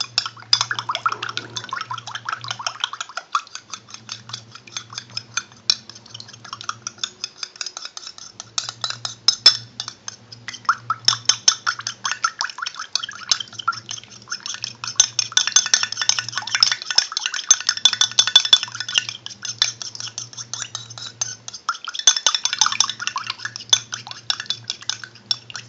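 A spoon scrapes and clinks around a bowl while carp boilie mix and flavourings are stirred together, with repeated rhythmic scraping and light metallic taps over a faint low hum.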